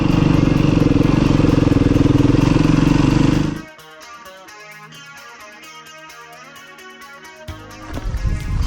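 Beta four-stroke dirt motorcycle, a 390 RR-S, roars loudly close by for about three seconds, then cuts off abruptly, leaving a quieter tonal stretch before a faint rumble returns at the end.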